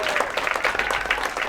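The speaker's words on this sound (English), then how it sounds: "Round of applause for Melissa" Brief burst of audience applause during a live stage show, a close crowd clapping in quick uneven patters at a steady level for a moment.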